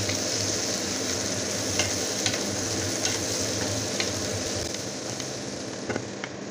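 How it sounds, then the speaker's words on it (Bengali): Onions, about a cup, hit hot oil in a pan for an eggplant charchari with kaikka fish, giving a steady, dense sizzle with faint stirring clicks throughout and no voices. "তেলটা গরম হয়ে গেছে, এখানে আমি দিয়ে দিচ্ছি এক কাপ পরিমাণ পেঁয়াজ"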